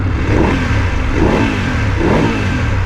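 A Voge 900 DSX motorcycle engine revs up and down in a few repeated surges on its centre stand, close and loud, with no talking.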